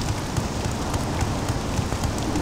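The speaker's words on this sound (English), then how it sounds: "this is cold rain" Steady cold rain in the frozen northern land of Solstheim in a video game, a dense, continuous patter of drops on the ground, loud and close with no pauses.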